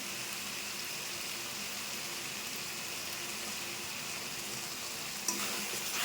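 Spice masala with chilli and meat masala frying in a pan, a steady, even sizzle that fills the whole stretch, with one brief scrape of stirring near the end and no talking.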